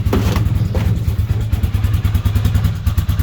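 A 2006 Hoss CFMoto 4x4 side-by-side idles close by, its engine thumping in a steady loping rhythm with light mechanical clatter and no talk.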